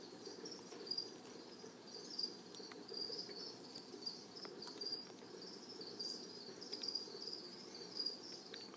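Steady, rapid chirping of a cricket inside a black widow spider's enclosure, a continuous high trill that pulses in regular bursts, close and fairly faint, with no voices.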